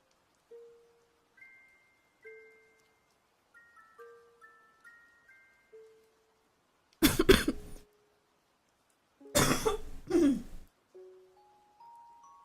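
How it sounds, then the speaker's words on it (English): Two loud, harsh coughing fits burst out close to the mic, following a series of soft electronic beeps. "Now my coughs are like really loud."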